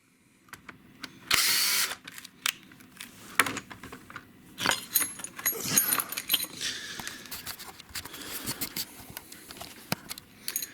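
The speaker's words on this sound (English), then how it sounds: "We have to drill a hole, otherwise we're gonna split the wood as soon as this goes in." A drill bores a hole in wood for a crabbing trotline prop-stick, with short whirring bursts mixed with clattering handling noises at close range.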